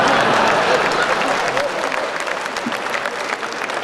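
An audience at a Hindi storytelling performance bursts into loud, dense applause that starts strong and eases slightly over a few seconds, with no speech over it.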